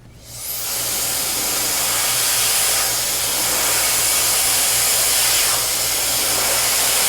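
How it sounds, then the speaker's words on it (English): Hair dryer blowing on a hair replacement system, switching on and ramping up to a loud, steady close-up roar of rushing air that holds for several seconds, with no talking. "Now we're going to blow dry and really melt the product into the hair."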